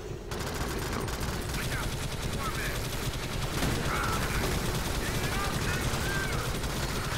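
Rapid gunfire in the video game Alien Swarm, dense continuous bursts and fusillades filling the whole stretch at close range, with a player talking over the shooting.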